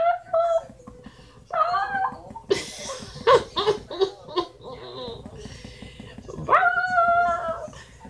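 A dog whimpers and whines in high, wavering cries, close by, with a few louder yelps and some background voices in between.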